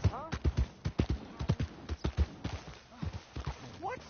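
Horse hooves clip-clop at a steady trotting rhythm in Red Dead Redemption 2, close and distinct, with a voice speaking briefly near the end.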